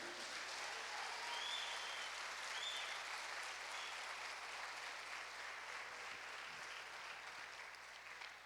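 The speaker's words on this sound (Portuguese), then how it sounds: "Você pode aplaudir a Deus por isso?" A church congregation applauding during a sermon, a steady wash of many hands clapping at a low, distant level that tapers slightly toward the end, with no speech.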